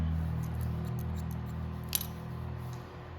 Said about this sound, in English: So I'm just trimming this bottom right here into these layers up here.